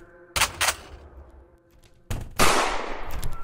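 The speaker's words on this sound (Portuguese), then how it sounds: "Meu Deus, ele deu um tiro!" Gunfire in the Baldi horror video game: a pair of sharp shots early on, then a louder blast after a pause that trails into a noisy, rumbling tail, with no talk over it.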